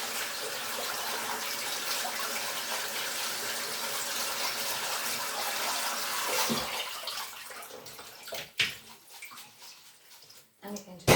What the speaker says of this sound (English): run some cold water in them to cool them down